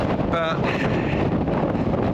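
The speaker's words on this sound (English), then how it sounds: "I don't know if you can hear me over this wind" Strong wind buffets the microphone on an exposed coastal lookout in Tasmania, a steady roaring rush that masks a brief spoken word.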